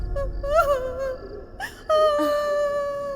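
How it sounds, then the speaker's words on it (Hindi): Someone crying in a horror-film scene, a wavering moaning wail that rises, breaks off and resumes as a long sustained sob, close and fairly loud. "किसी के रोने की आवाज आ रही है लगता है।"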